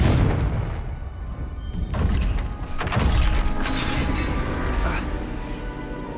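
A Confringo blasting spell goes off in the video game Hogwarts Legacy, giving a loud, dense rumbling explosion with crashing debris that rolls on for several seconds.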